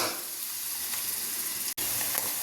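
Bitter gourd pieces frying in hot oil for a masala fry, a steady close sizzle and hiss throughout, with a brief dropout near the end.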